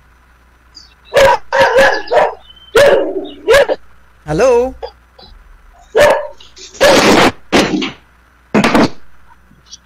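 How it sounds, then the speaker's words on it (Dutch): Dog barking on a radio phone-in call, a series of loud, sharp barks in irregular bursts heard through the phone line, with a brief voice in between. "ik hoor een hond blaffen"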